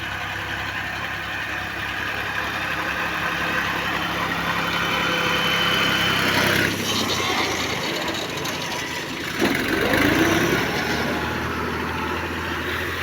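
A Fiat tractor engine runs steadily in a Punjab village, a continuous mid-pitched idle with vibration that swells louder briefly around the middle and again near the end.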